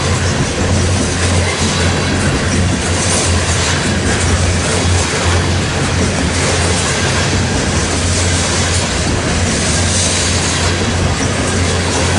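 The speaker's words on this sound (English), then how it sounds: "This train was coming east on Main 1 and then switched over to Main 2 to pass the train" A BNSF coal unit train rolls past at the Ashland Y in Nebraska, a loud, continuous rumble and rattle of loaded cars with steady wheel clatter, close by and unbroken for the whole stretch.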